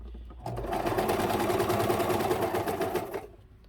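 A sewing machine runs steadily for about three seconds, stitching a wool flannel diaper cover with a fast, even mechanical rhythm, close and clear, starting and stopping abruptly with no talk.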